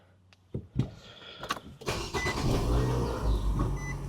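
A Nissan Sentra, freshly fitted with new spark plugs and coil packs, cranks with a few clicks and whirs, catches and starts, then rises into a steady revving engine roar, close up with no talking.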